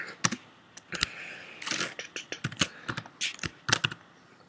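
Rapid, uneven clicks of a computer keyboard as someone types code in Xcode, close and fairly quiet, with bursts of keystrokes and short pauses and no talking.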